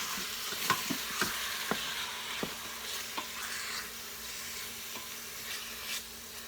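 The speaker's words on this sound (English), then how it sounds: "Use a little wooden spoon, kind of spread it out a little bit." A wooden spoon stirs and spreads food inside an Instant Pot, giving a soft background sizzle broken by a series of light, evenly spaced scraping taps close by, with no talking.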